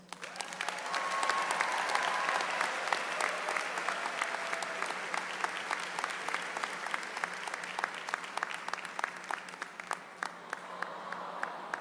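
A university commencement crowd claps continuously for about twelve seconds, a thick sustained roar of hands with sharper individual claps standing out, loud and steady before thinning slightly near the end.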